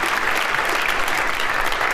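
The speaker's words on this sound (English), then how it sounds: "I think that deserves like some applause" An audience at a Python programming talk claps steadily in a dense, even wash of applause that lasts throughout.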